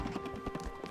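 Sheep running and jumping in Spiritfarer, a quick burst of soft rhythmic hoof-like taps and thumps, close and brief over a faint steady tone.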